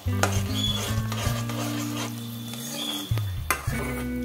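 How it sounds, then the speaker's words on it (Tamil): Cooked rice being stirred into a kesari-coloured mixture in a pan, with a few sharp spatula scrapes and clinks over a soft sizzle and a steady low background hum. "அந்த சாதத்தை இதுல சேர்த்துடலாம். சேர்த்துட்டு இதை நல்லா மிக்ஸ் பண்ணி விட்டுடலாம்."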